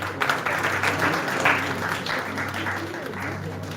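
Moderate applause from a conference audience during a certificate and appreciation ceremony, a fairly soft, even wash of clapping lasting a few seconds with a low hum beneath and some voices mixed in.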